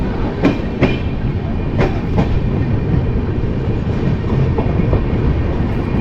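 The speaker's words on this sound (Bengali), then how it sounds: "মালদা স্টেশন থেকে আমাদের ট্রেন ছেড়ে দিল" After leaving Malda station at night, the Saraighat Express from Howrah to Guwahati rumbles loudly and steadily from inside a carriage, with a few sharp clickety-clack wheel beats over rail joints.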